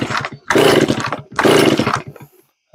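Stihl 041 chainsaw starting up and running, two loud bursts of rasping two-stroke engine revving, each about a second long, separated by a brief dip, then dying away to near silence.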